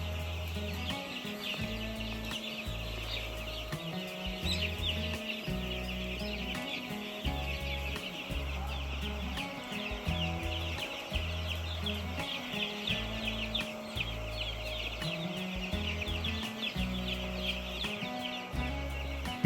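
Chickens on an egg farm, with young chicks in a coop, give a steady stream of high peeping and clucking throughout, set against a rhythmic, blocky background of music.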